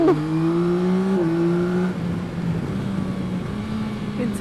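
Yamaha Tracer 9 GT motorcycle (2021) engine on a road test ride, a steady mid-pitched drone that rises, then drops as gears change partway through, with wind noise underneath throughout.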